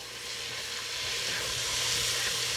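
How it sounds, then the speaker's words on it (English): Butter melting in a soup pot while making potato soup gives off a steady, close sizzle that swells gently in loudness and holds broad, crackling hiss with no voices. "And after your butter's melted, that only takes a couple of seconds, as you can see."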